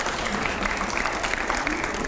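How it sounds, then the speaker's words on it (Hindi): Audience applauding during a Hindi-language exclusive TV interview, a steady, dense wash of clapping filling the whole stretch at moderate loudness, with some crowd murmur underneath. "जोरदार तालियां अगले सवाल से पहले"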